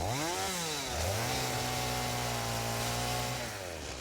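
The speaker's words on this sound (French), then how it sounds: "Tronçonneuse." A chainsaw cuts trees in the factory-building game Satisfactory, its engine revving up, holding a loud steady buzzing drone for a few seconds, then winding down, with no one talking.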